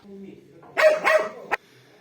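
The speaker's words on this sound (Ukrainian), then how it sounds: "Собака в нас так і не звик до кіз, не любить, гавкає на них і старається щіпнути на ходу." A farm dog barks at goats during a winter walk, with a few sharp, loud barks in quick succession close by after a quiet start.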